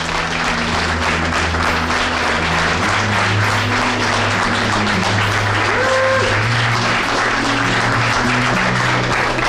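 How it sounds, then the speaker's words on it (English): Steady, loud applause from a crowd at a StarCraft 2 WCS Europe grand final, continuous clapping filling the hall for several seconds with a low hum beneath and no talk. "Please, a big round of applause for all 4 players."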